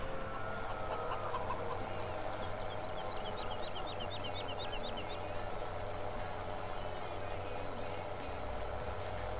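Chickens cluck and a rooster calls at a chicken coop in Farming Simulator, a quick run of repeated clucks over a steady engine drone and game ambience.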